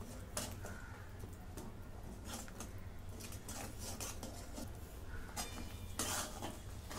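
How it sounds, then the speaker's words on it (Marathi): Roasted semolina (rava) is mixed into a mixture for rava vadi, with a steady soft scraping and occasional clinks of a utensil against the vessel over a constant low background. "आता हा भाजलेला रवा मी याच्यात थोडा थोडा टाकून घेते आणि मिश्रण मिक्स करून घेते"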